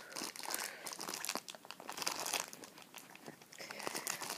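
Crinkling and crunching of plastic wrapping on a McDonald's Pokemon Happy Meal toy, close up and steady for several seconds, with no talking.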